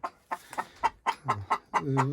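A hen clucks repeatedly in quick, rhythmic bursts close by, ending in a longer, drawn-out cackle.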